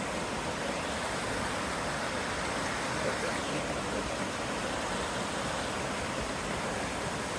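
Hogenakkal waterfall rushing and roaring as a steady, dense wash of water noise, unbroken and even throughout, heard from nearby.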